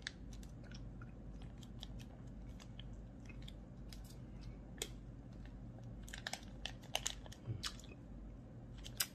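A UMI supplement pack is torn open and sucked, heard as faint, scattered crisp crackles and ripping ticks over a low steady background hum, with no talking.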